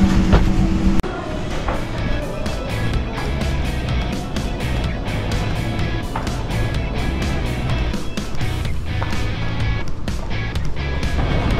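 A train in motion, a steady low rumble with rhythmic clicking and rattling from the carriage, close and continuous after a brief louder opening moment.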